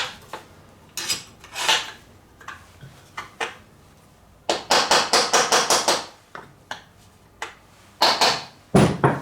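Repeated metal-on-metal hammer blows drive a punch to ream a Cannondale bike frame, coming in irregular bursts and then quick rhythmic runs of sharp, loud, close strikes with short pauses between.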